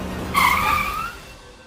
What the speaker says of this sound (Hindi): नील गाड़ी रोको।